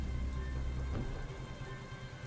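Rain falls steadily as ambience behind a tabletop role-playing game session, with a low rumble in the first second before it eases into a softer, even patter; no talking.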